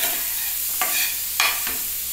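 Onions frying in hot oil in a pan, with a steady sizzle and two or three short scraping stirs from a spatula, close up and with no voices.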